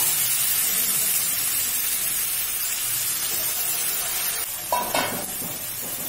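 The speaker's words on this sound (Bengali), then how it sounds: "আমি এখন এর মধ্যে সেই আগে থেকে যেটা মাখিয়ে রেখেছিলাম সেটা দিয়ে দেব। দিয়ে আমি এখন ভেজে নেব।" A potato and egg filling fries in hot oil, giving a continuous bright sizzling hiss with a few louder stirring scrapes near the end.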